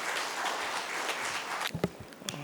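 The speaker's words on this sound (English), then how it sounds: "A huge round of applause for Mr." Applause from an audience at an international shipbuilding conference plenary session, a soft, steady patter of clapping heard from a distance that fades out, leaving a few isolated taps and footsteps.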